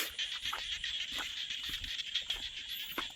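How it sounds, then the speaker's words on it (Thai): Frogs croak near a rice paddy at night, a dense steady chorus of calls and trills with scattered louder croaks standing out close by, and no talk. "พี่น้องได้ยินเสียงเขียดบ่"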